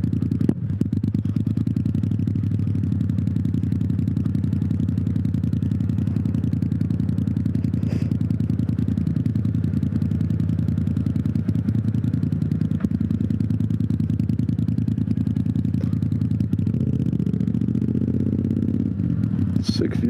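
Yamaha MT-07 ridden as a supermoto, its engine droning loud and steady throughout with a continuous low throb and slight rises in pitch near the end, no talking heard.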